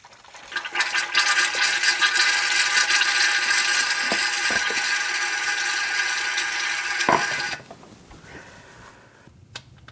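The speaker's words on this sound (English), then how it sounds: "Now we're going to fill the transfer case until the fluid runs back out." Fluid is pumped into a Jeep Wrangler transfer case, a close, steady gurgling, rattling hand-pump sound with a few sharp knocks that stops near the end, leaving a quiet tail.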